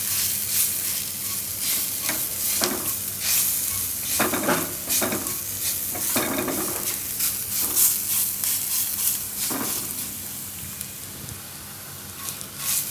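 Garlic and cumin sizzle steadily in a pan as they are roasted and stirred, a continuous close crackle with scraping strokes of a spoon recurring every second or two.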